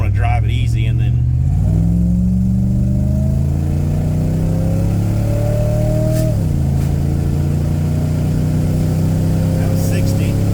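An Avanti car on its first drive accelerates hard, its engine note climbing through two gear changes as a loud, steady drone fills the cabin, with someone talking over it.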